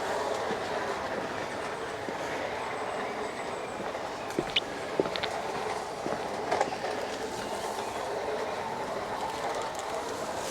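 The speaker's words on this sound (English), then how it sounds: "All the way round with no hesitations at all. Well done, little train." A small garden railway model train runs around an outdoor loop, its wheels giving a steady rolling rumble with faint clicks and occasional light squeaks, moderately close and without speech.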